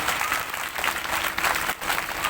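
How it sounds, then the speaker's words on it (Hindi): Loud, sustained audience applause for Acharya Ambika Prasad at a Bhagwat Katha religious gathering, a dense continuous wash of clapping from a large crowd with no voices over it. "एक बार जोरदार ताली हमारे आचार्य अंबिका जी के लिए"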